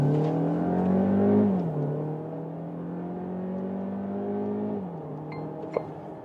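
A Skoda Kodiaq SUV with a 1.5 TSI mild hybrid engine accelerates in sport mode, heard from inside the cabin as a rising engine hum that drops at two gear shifts before climbing again.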